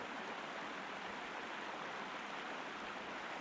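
Flowing water in the video game Sherlock Holmes: Crimes & Punishments, an ancient Roman site, makes a steady, even rushing wash, broad and continuous like a stream or small waterfall, heard alone at a moderate level.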